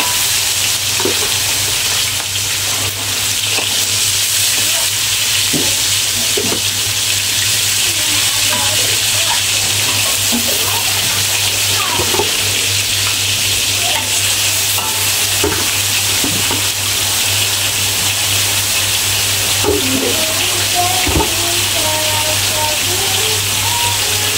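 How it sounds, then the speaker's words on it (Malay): Loud, steady sizzling of chicken frying in hot oil, with occasional stirring clinks and faint voices underneath. "nak goreng ayam dulu ni"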